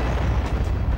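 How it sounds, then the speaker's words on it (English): Explosion in the video game Turok Evolution, a dense, loud low rumble that fills the whole second with no clear start or end, heard alone. "thank you, mysterious explosion that saved my face"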